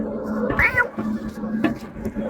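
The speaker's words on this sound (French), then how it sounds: "C'est un chat." A cat meows twice in a room: a rising, wavering meow comes first, then a shorter, fainter one about a second later. Both sit over a low background hum.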